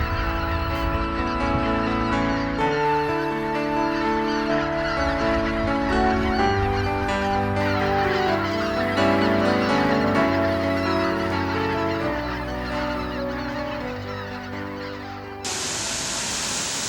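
A dense chorus of honking migratory geese, white-fronted geese among them, sounds at Togyo Reservoir in Cheorwon at daybreak, overlapping calls over a rushing background of wingbeats, continuous and loud before cutting away near the end.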